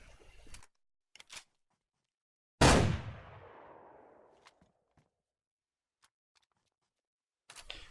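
A single loud shotgun blast in DayZ, sharp and close with a long fading tail, set among a few quieter mechanical clicks and handling sounds.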